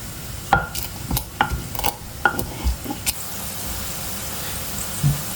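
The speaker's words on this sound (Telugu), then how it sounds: "ఇప్పుడు నేను దీన్ని దంచేసి" Cloves, garlic and green chillies are pounded for a spicy chicken fry, making about four steady, close thumps roughly a second apart over a low background hum.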